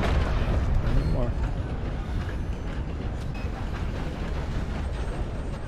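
Steady rumbling roar of a moving train in the Red Dead Online video game, heavy low-end chugging and rattle filling the clip, loud and continuous, with game sounds layered over it.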